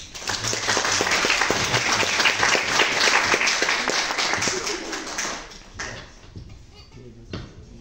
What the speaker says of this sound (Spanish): lo ha hecho el doctor Raúl Arredondo Gámez, para quien pido un voto de aplauso que nos está acompañando